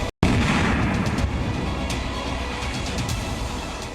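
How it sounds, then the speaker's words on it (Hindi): A missile strikes the lower part of a building, a loud, close blast after a brief cut of silence, followed by a sustained heavy roar and rumble of debris that slowly fades. "एक मिसाइल सीधे आकर बिल्डिंग के निचले हिस्से पर लगती है"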